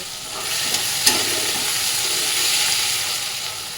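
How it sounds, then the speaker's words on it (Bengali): Chopped onion and tomato sizzle steadily in a hot pan with a few brief stirring clinks, a constant frying hiss with no talking. "এবার এগুলো ভালো করে একটু ভাজা ভাজা করে নেব"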